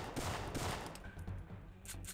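Gunfire from Syphon Filter 3 set in an underground bunker: dense bursts of rapid shots rattle one after another at close range, loud and continuous with no voices over it.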